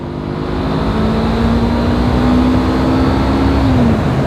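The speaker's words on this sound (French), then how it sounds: "écoute le moteur." Honda CB500 Hornet motorcycle engine revving up from a steady idle and holding a rising, sustained drone, loud and close, with no voices over it.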